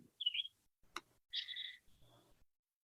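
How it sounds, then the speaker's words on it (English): A bird chirps close to the microphone outdoors, with a few short bright calls broken by a sharp tick and brief pauses, loud and alone. "That bird knows exactly where the microphone is."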